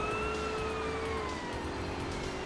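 A police siren in the video game GTA: San Andreas wails over a steady engine and road roar, its tone sliding downward as it sounds from a short distance.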